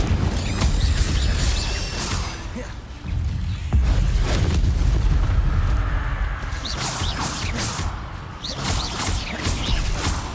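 Incendio fire spell blasts in the Hogwarts Legacy video game burst out as repeated whooshing, crackling crashes over a steady bed of game ambience, with several loud hits spread across the stretch.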